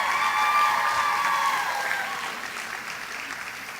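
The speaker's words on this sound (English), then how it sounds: "One more round of applause, please." An audience at an arangetram dance recital claps in sustained applause, loud and dense at first, then gradually thinning and fading over a few seconds.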